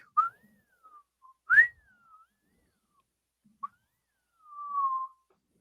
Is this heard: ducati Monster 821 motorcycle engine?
no